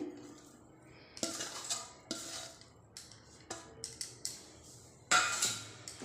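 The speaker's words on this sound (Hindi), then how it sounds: "आलू को डालने के बाद हम इसे अच्छी तरीके से मिक्स करेंगे।" Grated potato being stirred in a bowl for a potato and poha tea snack: scattered clinks and scraping knocks of a utensil against the dish, quiet and close, arriving in uneven bursts with soft pauses between.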